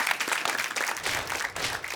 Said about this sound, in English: A huge round of applause, please, for our winner, ladies.